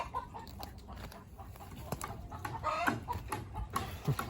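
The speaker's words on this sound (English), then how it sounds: "Those crazy chickens." Chickens cluck and chatter in short, scattered calls, several birds nearby against a soft outdoor background.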